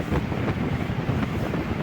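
Wind rushes steadily past an open window of a Punalur–Nagercoil passenger train running through coconut groves and green hills, a continuous broadband buffeting roar with a low rumble underneath.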